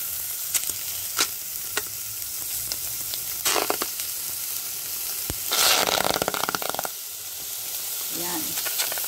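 Chicken pieces for adobo heating in a pan at an outdoor seaside cooking spot, giving a steady sizzle with sharper bursts of crackling and stirring clatter that swell loudest midway before settling back.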